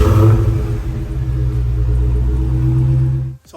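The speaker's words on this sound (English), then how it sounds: "There's nothing like a first cold start." A 2022 Dodge Charger Hellcat Redeye Jailbreak cold-starts, its supercharged V8 settling into a loud, deep, steady idle rumble close by, then cut off abruptly near the end.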